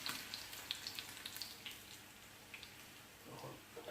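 Hilsa fish frying in hot oil, made in a home-style Bengali way. A soft, steady sizzle carries crackling pops throughout, slightly stronger at the start and then holding at a low, even level.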